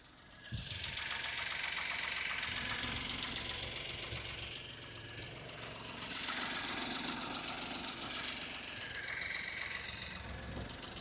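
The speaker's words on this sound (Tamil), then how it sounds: "இப்போது அந்த வண்டியோட இன்ஜின் சவுண்ட் எப்படி இருக்குன்றதை அந்த மைக்கு பக்கத்தில் வச்சு காட்டிடுறேன்." A small car engine, a 2015 Maruti Alto K10 automatic, idles steadily up close, a continuous low rumble with a faint rhythmic knock and a slight rise in revs midway.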